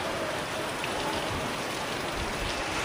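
Heavy rain pours down outdoors by rice fields, a dense, steady hiss of drops beating on surfaces without a break.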